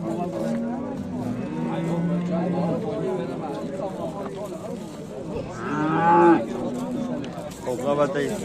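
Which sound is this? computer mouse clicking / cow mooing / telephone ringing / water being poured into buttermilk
cow mooing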